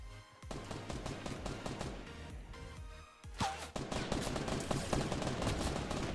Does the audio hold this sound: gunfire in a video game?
yes